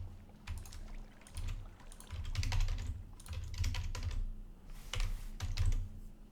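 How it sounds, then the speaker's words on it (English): Typing on a computer keyboard during a modded Minecraft session, bursts of quick key clicks in short runs with brief pauses between, close and clear over a low background hum. "I typed it that way because I thought I'd have less typos"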